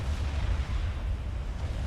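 A strategic missile bomb explodes in the Forged Alliance strategy game, a loud, continuous deep rumbling blast that holds steady for about two seconds with no voices.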